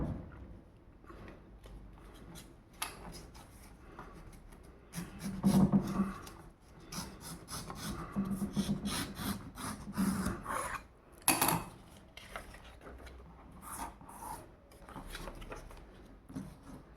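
Scissors cut a sheet of A4 paper into equal pieces for a sunflower craft, giving close, quiet rasping snips and rustles in irregular bursts, some louder, with no one talking.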